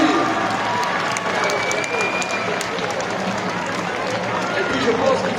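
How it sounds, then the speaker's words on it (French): Crowd applause and cheering at a stilt jousting contest, a dense, steady wash of clapping and voices from a large outdoor audience, loud and continuous throughout with a brief whistle-like tone partway through. "Une marquée d'applaudissements pour Manon et pour Lucie."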